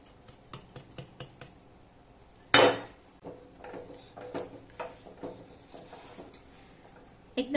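Cashew mixture being stirred in a large kadai, with scattered metallic scrapes and clinks of a spoon against the pan, one sharp louder knock partway through, and intermittent softer scraping strokes close by.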